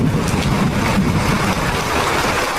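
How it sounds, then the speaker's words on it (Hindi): Heavy rain pours down at night in a dense, steady roar with gusty storm-wind rumbling underneath. "एक रात आंधी के साथ साथ बहुत जोरों की बारिश होने लगी।"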